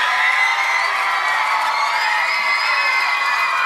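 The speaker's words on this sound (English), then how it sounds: "Give yourselves a round of applause." A concert audience at a live Australia Day show cheers and whoops in a steady, dense wash of crowd noise, loud and continuous throughout, with no distinct claps standing out.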